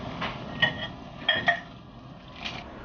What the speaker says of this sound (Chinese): 一起搅拌均匀